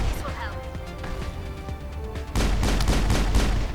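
Sniper fire and battle noise in the video game Mass Effect, a steady rumble of combat that swells sharply louder partway through, with dense cracking shots layered over music and a voice.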